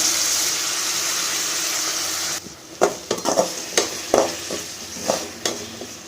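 Chopped banana flower is stirred into sautéed onion and tomato in a pan, a steady sizzle giving way to a series of sharp scraping stirs and spoon knocks, close and clear.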